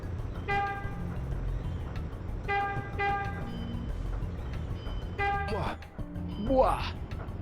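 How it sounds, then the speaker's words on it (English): A car horn honks in the video game Shenmue, sounding in several short repeated bursts that are loud and somewhat harsh. Someone talks over the horn, and a rising electronic sweep closes the sequence. "I like how if you just keep honking"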